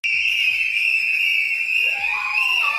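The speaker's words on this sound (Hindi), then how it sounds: "उनके परिवार के लोगों ने कैसे सीटियां बजाकर इस खुशी को जाहिर किया।" Family members celebrating whistle shrilly, sustained and steady throughout, loud and continuous, with a second rising whistle joining near the end amid faint background voices.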